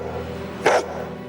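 A dog gives one sharp, loud bark, close and brief, over a quiet indoor background.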